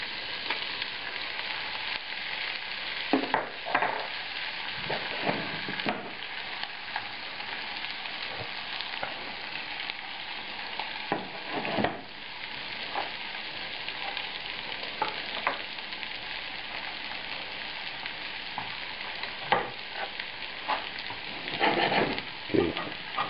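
Steak and shallots sizzling in melted butter in a pan: a loud, steady, close frying hiss with scattered crackles and pops throughout and no talking.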